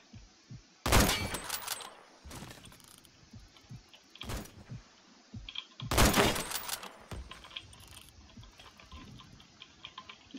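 Bursts of gunfire in the online shooter Phantom Forces, loud broadband volleys around one and six seconds with scattered shorter shots and clicky mechanical game sounds between, no talking.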